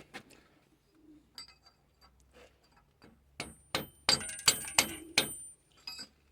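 Sharp metallic hammer strikes ring out while knocking out a metal bushing, sparse at first and then a quick run of loud, close clanging blows with bright metallic overtones.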